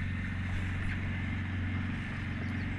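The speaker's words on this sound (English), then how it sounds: "He didn't like the sound of our boat." A boat's engine drones at an even, steady pitch out on the water, a constant low mechanical hum that stays level and unbroken throughout.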